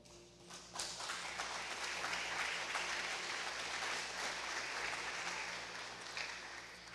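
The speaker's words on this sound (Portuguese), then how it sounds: "dando um aplauso para o Senhor." Church congregation applauding during a service, a soft, diffuse wash of clapping that swells shortly after the start and holds steady, heard from a distance in a reverberant room.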